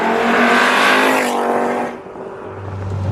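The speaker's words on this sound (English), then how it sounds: "Driving the VR5 Volkswagen Golf." A Volkswagen Golf with a VR5 engine, nearly 20 years old, revving loudly while driving, its rising harmonic engine note climbing and then dropping sharply as the throttle lifts, followed by a lower steady drone.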